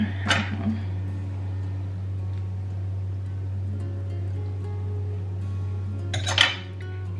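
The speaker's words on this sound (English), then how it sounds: "I'm going to literally slice right through the middle" A knife slices through the middle of food on a plate, with a short scraping clink at the start and another near the end over a steady low hum.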